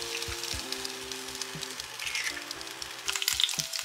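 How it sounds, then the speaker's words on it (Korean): An egg fries in a pan with a continuous crackling sizzle, rising to sharper, louder spatters near the end, heard close up with no talking. "그 사이에 계란 후라이를 해줄 겁니다"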